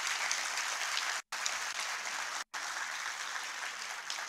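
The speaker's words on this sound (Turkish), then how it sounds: "Bir alkış Serdar Başkan'a." Audience applause at a Turkish political party's candidate introduction rally, dense and continuous at moderate level, broken by two abrupt brief dropouts.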